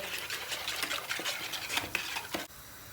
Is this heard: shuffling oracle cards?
no